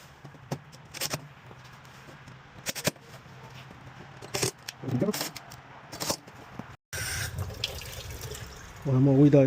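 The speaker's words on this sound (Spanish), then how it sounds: "Ponemos agüita de grifo." Tap water running into a small glass for a microwave repair, brief splashing bursts separated by clunks and handling noises, with a longer steady pour near the end.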